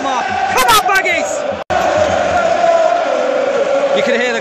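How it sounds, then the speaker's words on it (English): Stadium crowd at a West Bromwich Albion versus Stoke City football match roars and chants continuously and loudly, with voices close by and a brief sharp cut partway through. "You can hear the crowd. We're rocking again, just like the QPR game."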